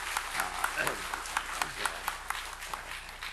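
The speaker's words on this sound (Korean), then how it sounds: "우리 모두 함께 통 털어서 하나님께 감사의 박수, 영광의 박수 한번 하시면 좋겠습니다" A church congregation applauds in thanks for the choir, elders and volunteers, a fairly soft, scattered clapping with distinct individual hand claps standing out from the room.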